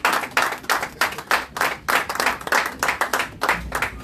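A church congregation claps in a steady rhythmic beat to acclaim God, about a dozen sharp group claps spread evenly over a few seconds, close and lively.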